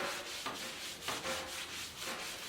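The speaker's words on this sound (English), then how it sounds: "you can use your damp cloth, and the idea is now to wipe away and remove the fats and the grease that has accumulated on the grill, like so" A damp cloth wipes grease from a commercial grill surface in repeated close rubbing strokes, soft scrubbing swishes at a steady rhythm.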